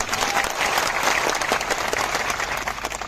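A large crowd at a political gathering applauds two local party workers, a steady, loud wash of clapping that lasts throughout.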